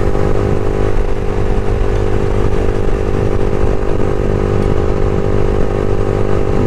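A Yamaha R1 motorcycle fitted with an Akrapovic full exhaust system rides steadily, its loud continuous engine drone and exhaust roar holding throughout with no talk.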